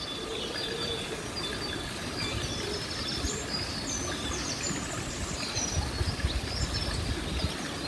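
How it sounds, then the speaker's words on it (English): Birds chirp and tweet intermittently over a constant rush of flowing water outdoors. "Bird song."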